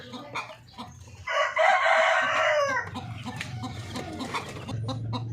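A native Filipino rooster crows loudly nearby, with hens clucking and other chicken sounds scattered around it.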